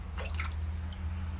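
Kukrak fish splashing in a pond, a few quick wet sloshes and drips near the start over a steady low pump hum.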